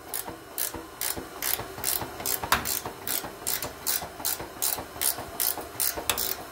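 A ratchet clicks in quick rhythmic bursts while turning a bolt on the centre driveshaft of a 2006 Subaru B9 Tribeca, close and fairly loud with short pauses between strokes.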